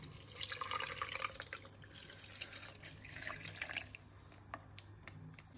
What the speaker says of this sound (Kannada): ನೆಕ್ಸ್ಟ್ ಇದಕ್ಕೀಗ ಹಸಿ ಹಾಲನ್ನು ಹಾಕೋಣ.